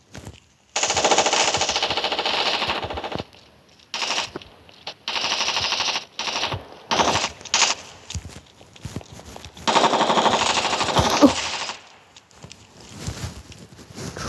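Long bursts of rapid automatic gunfire in the video game Special Forces Group 3, several sustained volleys separated by brief gaps, loud and close with a mechanical, game-like quality.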